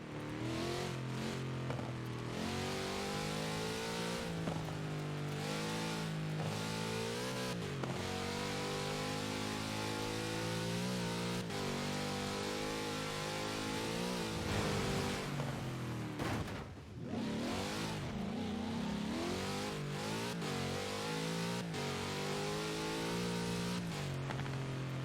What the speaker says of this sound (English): Such power in the big Chevrolet engine.